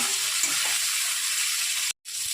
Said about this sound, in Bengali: এবার ওই কালো জিরের সাথে বেগুনটাকে ভাজতে হবে।